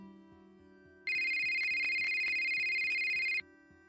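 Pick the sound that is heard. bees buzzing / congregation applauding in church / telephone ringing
telephone ringing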